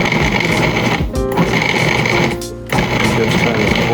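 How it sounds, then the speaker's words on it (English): A food processor pulsing cubed butter into flour for apple turnovers, a loud close motor roar in repeated bursts with brief drops in between as the pulses stop and restart. "We're going to scatter the cubed butter over the flour and pulse it"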